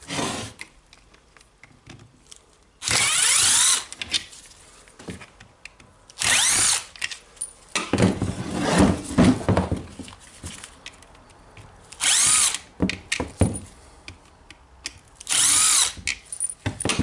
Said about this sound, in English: I will unscrew the four screws holding the motor housing and hammer housing together